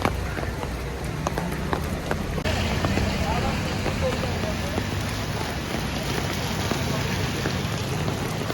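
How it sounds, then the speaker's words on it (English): Monsoon rain pours down on a Mumbai suburb, a dense steady hiss with scattered louder drops that grows heavier partway through and continues without pause. "now it's pouring down."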